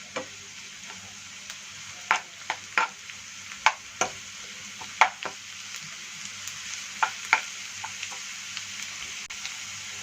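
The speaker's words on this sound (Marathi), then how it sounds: "आणि हे पण फ्राय करून घेऊ।" Onion frying in a pan with red and green chillies, a steady sizzle running under repeated sharp clicks and scrapes of a spoon stirring, no voices.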